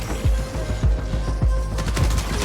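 Bursts of gunfire from a weapon in the video game Marathon crack out in an even rhythm, four heavy thumps about half a second apart, loud and close with no talk.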